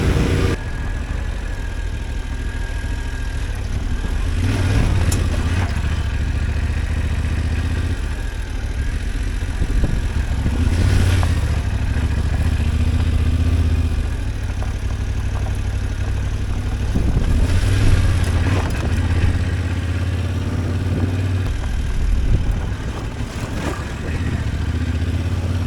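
A Yamaha Tenere 700 adventure motorcycle engine runs steadily on a dirt test ride, a continuous loud mid-pitched drone with periodic swells as the throttle rises and falls, no voices over it.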